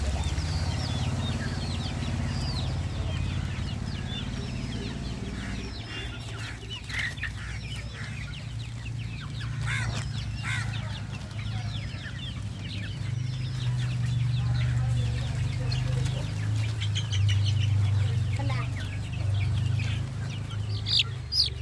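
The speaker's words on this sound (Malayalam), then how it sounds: "ഇവിടെ ഒരു കൂടക്കോഴിയുണ്ട്" Several chickens clucking close by in a yard, repeated short clucks and murmurs overlapping with one another, with a low steady background hum underneath.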